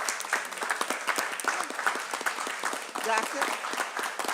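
Applause and clapping fill a school committee budget hearing, continuous dense clapping from a group with voices talking over it throughout.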